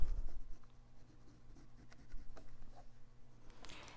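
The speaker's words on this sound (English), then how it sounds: "Then I'm going to take my pencil and mark this line." Pencil marking a line on quilt binding, a soft scratchy writing sound with short strokes across fabric, close and quiet over faint room hum, no talking.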